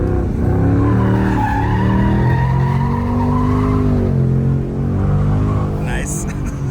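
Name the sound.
Ford Mustang Dark Horse drifting with tires skidding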